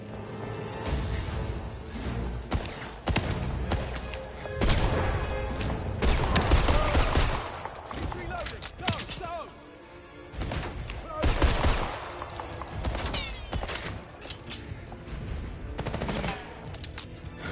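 Gunfire from the video game 007 First Light: repeated bursts and rapid shots with mechanical weapon clatter, loud and dense throughout, with occasional in-game voice under the shooting.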